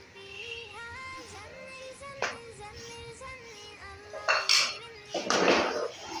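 Aloo chicken curry is being mixed in a pot after ground garam masala and fresh coriander are added, with a spoon scraping and clinking against the metal in steady strokes, rising to louder scrapes near the end.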